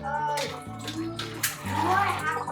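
Boiled salted pumpkin seeds poured from a pot into a colander with water, a close, continuous wet rushing and splashing that swells near the end, with a voice briefly heard.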